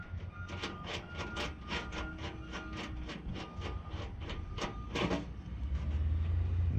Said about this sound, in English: And then you pop this in, all right, and then you just kind of rivet it down.